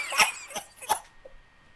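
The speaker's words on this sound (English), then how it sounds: "When your baby coughed more than 3 times in a row, COVID!" A baby coughs three times in quick succession, short raspy bursts close to the listener, followed by near silence.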